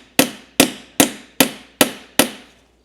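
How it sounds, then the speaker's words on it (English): A hammer gives six evenly spaced, sharp taps to the drain plug of a flexible automatic transmission pan, each blow ringing briefly, close and distinct with no talking. "you're going to give it about 10 or 12 nice taps like this."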